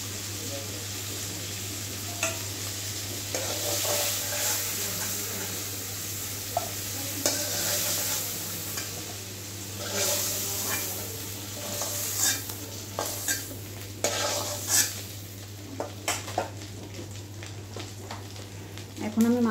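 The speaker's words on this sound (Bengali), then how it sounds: "মাছগুলো আমি লাল লাল করে ভেজে নিয়েছি। এখন আমি মাছগুলো তুলে নেব।" Prawns frying in hot oil while being stirred, a steady close sizzle running throughout with intermittent scraping and clinks of a spatula against the pan, plus a constant low hum underneath.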